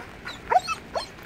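A nervous dog during leash training gives a few short whimpers and yips, close and fairly soft, over a quiet background.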